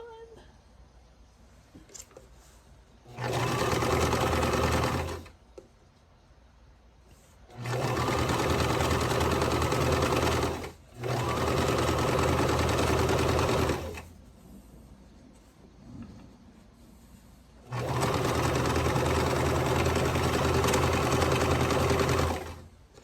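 A sewing machine piecing a quilt runs in three long, steady buzzing bursts, close and loud, separated by quiet pauses with faint handling sounds.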